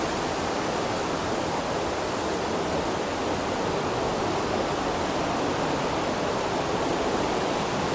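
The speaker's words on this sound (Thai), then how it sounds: "เสียงน้ำไหลผ่านลำธารหินและช่องแคบ" Water rushes steadily through a narrow rocky stream in Aare Gorge, Switzerland, a loud, continuous broadband roar that stays close and unbroken throughout.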